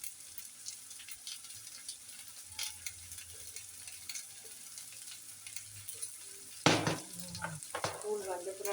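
Food sautéed and stirred in a pan that has a lid, with a quiet crackle and scattered scrapes, then a sharp louder clatter of handling toward the end, close, no speech.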